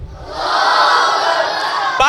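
A rally crowd at an Independence Day (14 August) gathering in Islamabad roars back a religious slogan in unison, one loud sustained collective shout after a speaker's call, with a brief sharp noise at the end.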